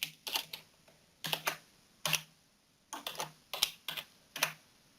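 Typing on a computer keyboard, several short clusters of crisp key clicks in an uneven rhythm, close and fairly quiet, with small gaps between presses and no voices.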